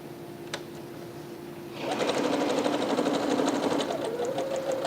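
A sewing machine chain-pieces quilt block fabric: after a quiet start, a rapid, even mechanical stitching rhythm starts near two seconds and runs steadily, close and clear, without talk.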